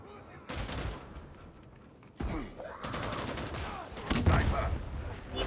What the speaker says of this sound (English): Somebody's shooting me. Or there's shooting happening anyway.